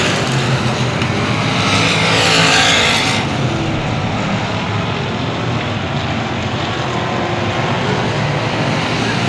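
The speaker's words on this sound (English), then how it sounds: "Six laps, almost halfway here in your stock car main event." Loud roar of stock cars in a main event racing around Cotton Bowl Speedway, engines droning continuously with a louder car sweeping past early on, no talk over it.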